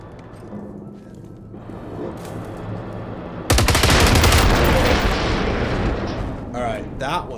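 Sniper rifle fire in the video game Generation Zero, set in 1980s Sweden during a fight with robots: a heavy, sustained burst of loud gunfire and rumble that breaks in midway after quieter game noise, with someone talking.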